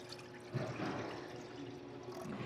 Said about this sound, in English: what I'm actually going to do is dump the rest of this in her water bowl